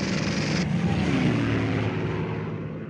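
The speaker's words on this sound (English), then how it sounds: "The Allies sent in squadrons of Typhoon aircraft equipped with machine guns" Propeller engine drone of a World War II Typhoon fighter aircraft over Normandy, a steady broad roar that stays loud and close throughout, easing slightly toward the end.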